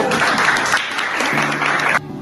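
A group at a Madhya Pradesh adult literacy mission gathering applauds. Brisk, close clapping lasts about two seconds and then stops abruptly.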